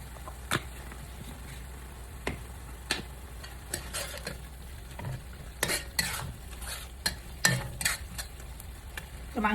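Beef seasoned with garlic powder is stir-fried for biryani, with steady sizzling from the pan and repeated sharp scrapes and clacks of the stirring utensil at an uneven rhythm, all fairly close and without talk.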